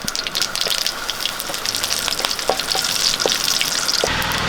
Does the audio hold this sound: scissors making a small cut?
no